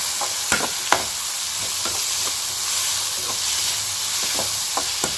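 Chopped onions sauté in a pan with a bright, constant sizzle, punctuated by occasional clicks and scrapes of a stirring spoon, close and fairly loud.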